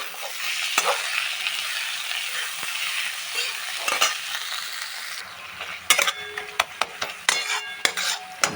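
Fried chili and tomato mashed in a frying pan, first a broad steady sizzle and then a string of sharp metallic scrapes and knocks from a utensil against the pan.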